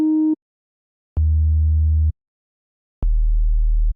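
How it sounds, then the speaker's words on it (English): Saturated analog sub bass synth from a kick-style sine source, playing three separate sustained notes, each lower than the last, deep and clean with short gaps of silence between them. "So the first thing that I want to add over that little 4 on the floor kick is I just want to add a sub bass."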